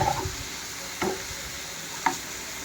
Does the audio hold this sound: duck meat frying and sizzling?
yes